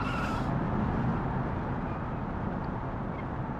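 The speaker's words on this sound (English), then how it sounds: "The transmission's just searching for gears." Automatic transmission hunting between gears in a BeamNG driving game car, a steady broadband engine and drivetrain drone that holds continuously at moderate loudness with no clear shifts standing out.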